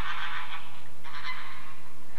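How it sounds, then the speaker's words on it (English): Honking waterfowl call out in two loud, close bursts, a raucous goose-like chorus with no talking over it. "Look at the ducks."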